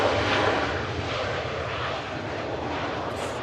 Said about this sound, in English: Ryanair just arriving in from Alicante